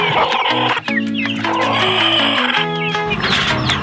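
Young Rhode Island Red and Hubbard chickens cluck and chirp continuously at close range, overlapping calls filling the whole stretch.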